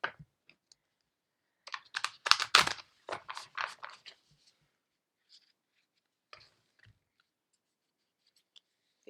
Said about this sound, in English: These cards are so big that sometimes they just don't want to stay in my hand that I'm shuffling.